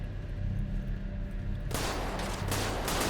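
Incoming gunfire striking the player in the video game Star Citizen: a low drone gives way abruptly to a loud, dense burst of impacts that continues to the end.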